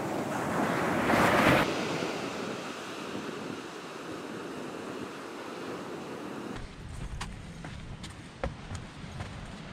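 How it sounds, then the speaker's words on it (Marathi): Sea waves at high tide beside a near-full moon roll onto the Vengurla shore in a steady, loud wash of surf, with wind buffeting the microphone throughout. "भरती आलेली, शिवाय पौर्णिमाही दुसऱ्या दिवशी होती, त्यामुळे नेहमीच्या भरतीपेक्षा मोठी भरती वाटत होती."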